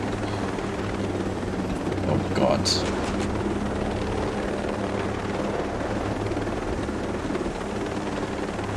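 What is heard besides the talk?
helicopter flying in video game Ghost Recon Breakpoint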